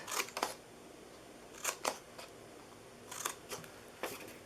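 Scissors snipping into score lines on paper for a handmade stamped birthday gift box, giving four short crisp bursts of cutting, each a quick pair of close snips, alone in a quiet room.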